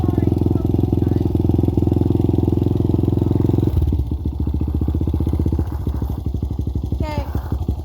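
Honda CRF100 dirt bike started from cold on choke, its engine droning loud and steady before dropping into a choppy, rapidly pulsing idle close by.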